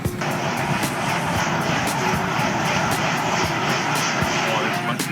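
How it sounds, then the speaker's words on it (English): Electric motors of a model aircraft straining at an outdoor flying event, a steady loud whining drone with rhythmic pulsing, carrying on without pause throughout. "Those motors don't sound happy."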